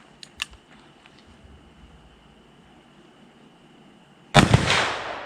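A single loud gunshot from a Colt Anaconda .44 Magnum revolver during velocity testing, a sharp blast with a lingering tail, preceded by a few faint clicks and handling noises.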